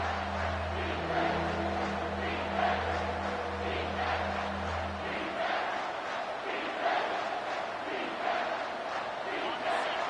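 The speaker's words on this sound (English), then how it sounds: "this crowd is tearing the lid off this place" Stadium crowd in the College Football 25 video game roars loudly and steadily throughout, with a low droning tone underneath for the first half that then drops away.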